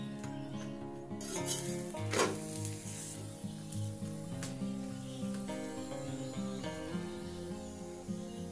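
A sattu-stuffed paratha fries in oil in a pan over medium heat, giving a steady, soft sizzle, while music plays over it throughout.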